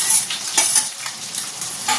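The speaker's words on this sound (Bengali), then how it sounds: "এবার এর মধ্যে এই ভাজা সবজিগুলো দিয়ে দেবো চিংড়ি মাছ সঙ্গে" Fried vegetables and shrimp are stirred into a spice paste that is already sizzling in a pan. The frying sizzle holds steady while a utensil scrapes and stirs with a few soft bumps, close and with no talk.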